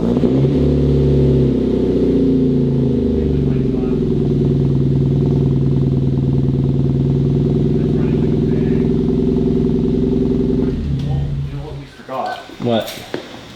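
A car engine idles steadily after an intake cleaning, a loud continuous hum with a slight pitch shift, then it cuts out near the end and a few clanks follow.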